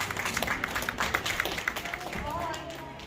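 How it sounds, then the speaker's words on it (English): Gala audience applauding an award winner: steady clapping under a loud announcer's voice, fading toward the end. "Let's give him a big applause."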